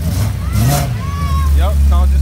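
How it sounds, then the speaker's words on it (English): A supercharged BMW M3 engine revs past at a track day, a loud rising growl with people talking over it. "Here goes sounds like an ESS supercharged M3"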